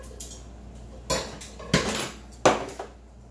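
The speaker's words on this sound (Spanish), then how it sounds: "Vamos revolviendo en toda la salsa." Spoon stirring spaghetti through cheese sauce in a metal pot, giving a few distinct clinks and scrapes against the pot at uneven intervals, close and fairly quiet.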